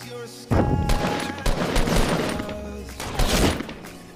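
Rapid gunfire in the video game Fortnite, dense bursts of automatic shots with booming impacts, loud and close, filling the game mix with only brief gaps.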